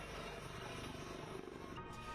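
Four military helicopters flying in tight formation during an air exercise, a steady dense rotor roar heard from a distance with no pauses.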